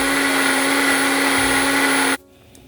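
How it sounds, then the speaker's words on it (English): A kitchen blender whirs loudly and steadily, pureeing stewed pigeon peas with coconut milk, then cuts off abruptly, leaving near silence. "now we're going to add it so we can blend it"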